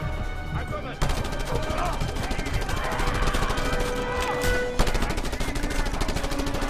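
Rapid gunfire in the video game Just Cause 2, a dense run of shots with explosive bursts layered over game music and ambience, loud and continuous, with brief player chatter underneath.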